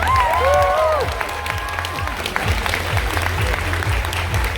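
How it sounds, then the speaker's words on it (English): A large crowd at a Fan Expo cosplay competition applauds and cheers, filling the hall with loud, continuous clapping; a brief whistle-like tone rises over it at the start. "Give me a huge round of applause."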